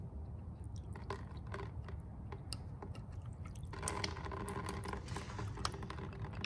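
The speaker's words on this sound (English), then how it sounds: "Some water coming out of there." Water drains and splashes steadily from a skidder's oil reservoir, a continuous wet trickle that grows fuller and louder partway through, with no voices.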